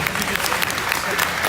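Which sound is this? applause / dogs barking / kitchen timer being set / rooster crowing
applause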